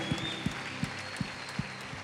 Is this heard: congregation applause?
yes